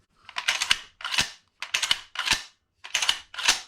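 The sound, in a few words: SKS rifle action being cycled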